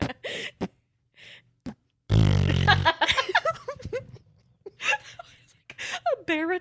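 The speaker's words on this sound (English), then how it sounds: "A baritone fart." A deep, low-pitched fart rumbles for about a second amid a casual conversation, loud and close, followed by laughter and chatter from several people.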